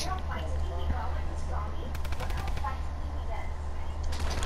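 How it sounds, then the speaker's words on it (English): Automatic drum gun fire in the Fortnite video game, a steady rapid burst of shots under continuous game noise and music, with a voice talking faintly at times. "did I just hear the drum gun?"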